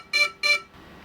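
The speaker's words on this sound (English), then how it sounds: "for ESC beeping, right, when you switch it on, this is what you're gonna hear" Two short electronic beeps from the ESCs of a DJI Avata FPV drone at power-on, evenly spaced and fairly loud, followed by a low background hum.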